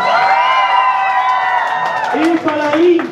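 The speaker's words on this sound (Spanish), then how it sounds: "Sí, tú. Aplauso." Crowd at a Mexican cosplay runway show cheers and whoops loudly throughout, with shouting voices and scattered clapping mixed in close by.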